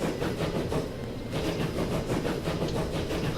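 A steam train in the video game Transport Fever rolls along steadily on its first journey, a continuous rumble with rhythmic clickety-clack from the carriages, fairly close and even in loudness throughout.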